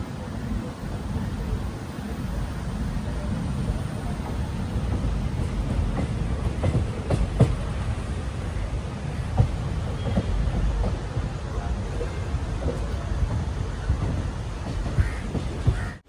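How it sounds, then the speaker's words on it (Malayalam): A passenger train pulls out of Kottayam station at dawn and runs on, a steady dense rumble and roar of wheels and carriage noise throughout, with faint clanks and rattles on top. "കോട്ടയത്ത് നിന്ന് ഇതാ കറക്റ്റ് 5:15 തന്നെ ട്രെയിൻ എടുത്തിരിക്കുകയാണ്."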